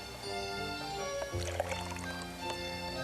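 Two-part urethane is poured between cups for casting, a short liquid pour over a continuous tonal hum in the background.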